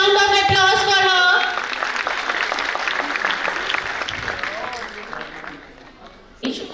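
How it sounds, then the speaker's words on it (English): Applause from an audience at a school annual function, a dense sustained clapping that starts loud alongside a held tone and thins out over several seconds, with voices in the mix. "Give a big round of applause for her"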